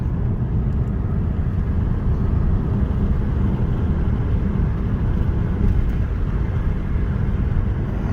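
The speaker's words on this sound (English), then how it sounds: "it's a pretty bumpy road here, as you can tell by the camera." Steady low road rumble from a 2013 Hyundai Elantra driving over a bumpy road, continuous and fairly loud throughout with no voices.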